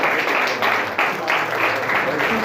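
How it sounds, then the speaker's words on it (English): A short burst of applause, many hands clapping together in a steady, dense patter that rises and holds for a couple of seconds. "Give him a hand clap"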